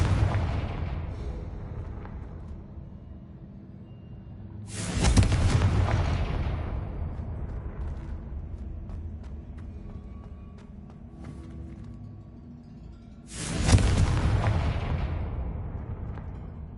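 Two heavy explosions from the Confringo blasting spell in Hogwarts Legacy, each a sudden loud boom that rumbles and slowly decays, spaced well apart amid quiet ambience.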